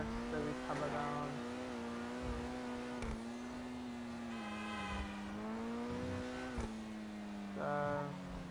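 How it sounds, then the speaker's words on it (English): Sustained engine drone of a car held at top RPM in a Rockstar video game, steady and loud with slight pitch wavering, under a speaking voice. "I've had this car at its highest peak of RPM, so its highest peak of speed"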